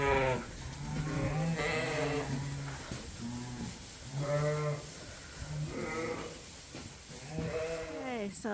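Sheep in farm pens bleat repeatedly, several animals calling in overlapping wavering cries close by, over a steady background hum of the barn.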